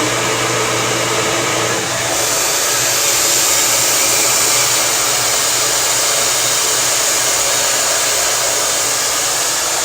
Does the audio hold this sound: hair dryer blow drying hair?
yes